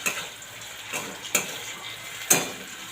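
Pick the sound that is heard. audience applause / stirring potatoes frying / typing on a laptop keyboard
stirring potatoes frying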